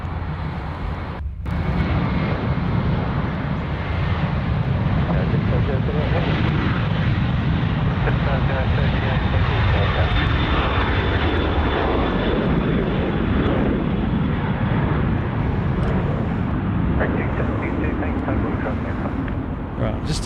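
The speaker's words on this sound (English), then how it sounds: "We'll just capture this Qantas 737 rolling at 34 right" Qantas Boeing 737 rolling for takeoff on runway 34 right at Sydney Airport, a steady loud jet roar lasting throughout with a faint whine, heard from the spotting area.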